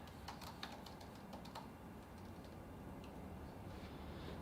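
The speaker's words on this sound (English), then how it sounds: "I'll type it in here so you can see" A name being typed on a computer keyboard: a quick run of light, close key clicks in the first second and a half, then a few sparser taps, all over a steady background hiss.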